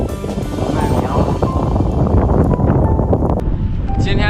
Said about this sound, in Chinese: 现在下着雪，刮着北风，哇，这北风刮的这雪像箭一样，嗖嗖嗖的出过来。